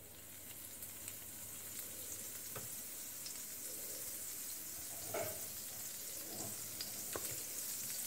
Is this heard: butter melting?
yes